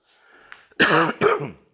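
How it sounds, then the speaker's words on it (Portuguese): Two sharp throat-clearing coughs close up, following a faint breathy sound, then quiet. "Perdão a tosse."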